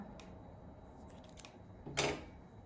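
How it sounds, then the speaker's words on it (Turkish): Scissors snipping through yarn while crocheting a popcorn-stitch baby blanket, a few quiet close clicks with one sharper cut, in a hushed room. "Ve ipimi kesiyorum"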